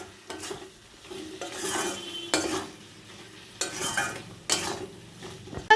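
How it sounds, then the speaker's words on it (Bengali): Salt, turmeric and chili powder frying in oil for a Bengali dhokar dalna, sizzling steadily under close, rhythmic scraping strokes of a spatula against the pan, repeated every second or so, with no talking. "এবার সব মশলাগুলো খুব ভালো করে আমি কষিয়ে নেব"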